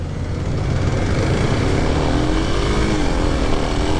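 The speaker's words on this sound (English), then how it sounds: "We'll try out this Kawasaki Supermoto bike here." A 2023 Kawasaki KLX 300SM supermoto being ridden, its engine a steady, loud, close drone with a faint rising pitch, wind noise mixed in, no speech.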